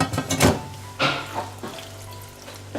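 Steamed meat and its cooking sauce slide into a pot in a few wet splashing pours and a soft thunk, followed by brief sizzling liquid, close by and without talk.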